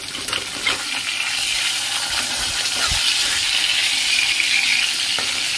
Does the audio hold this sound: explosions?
no